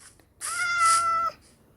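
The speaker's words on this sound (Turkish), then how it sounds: "Arkadaşlar bu kedi evcilleşmiyor." A single drawn-out Minecraft cat meow, clear and close, rising then holding steady for about a second before cutting off.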